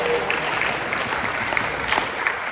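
A Battle of the Bands audience in an auditorium claps for event sponsors, a continuous wash of applause with scattered sharper claps and a faint steady high-pitched hum underneath.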